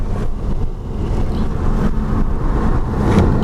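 A 2014 Nissan Juke Nismo runs flat out down a race track straight, its engine and road noise forming a loud, steady, close roar heard from inside the cabin.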